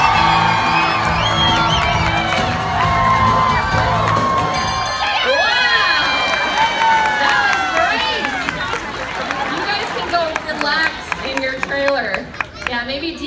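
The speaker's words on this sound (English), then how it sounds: "Remember, the louder your cheer, the faster your dog will go." A live audience at an animal show cheers for a performing dog, with loud sustained shouting, whoops and children's screams plus some clapping. An announcer's voice is heard at the start.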